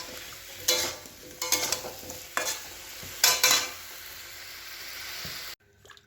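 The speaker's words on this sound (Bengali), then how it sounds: "তরকারিটা একটু ভালো করে মশলা দিয়ে কষিয়ে নিই" Soybean and potato curry frying with spices in a pan, a loud continuous sizzle broken by four bursts of vigorous stirring and scraping before it cuts off abruptly.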